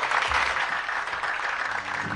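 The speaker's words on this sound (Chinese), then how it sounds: "掌声有请一号女嘉宾" Studio audience at a Beijing TV dating show applauding as a female guest is welcomed: a steady wash of crowd clapping at moderate level, with faint background music underneath.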